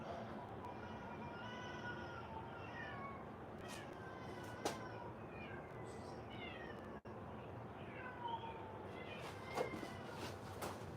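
Cats meow repeatedly outdoors, several voices overlapping in drawn-out, wavering cries over a steady background hum, with a couple of sharp knocks; no speech.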